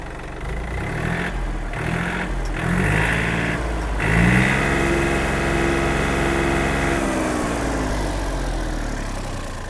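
A Yanmar AF-28 mini tractor's small diesel engine runs steadily nearby with a rough, throbbing idle that revs up briefly before settling back into a constant drone.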